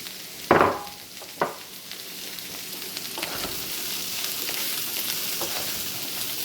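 Poblanos and tricolored peppers hit a hot pan for a veggie stir fry with orange sauce: two sharp bursts of sizzle as they land, then a steady, close frying hiss that continues alone.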